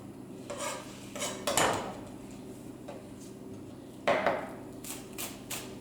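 A knife chops parsley on a cutting board, giving clustered wooden knocks and taps at an uneven pace with a couple of louder strikes, close and moderately quiet.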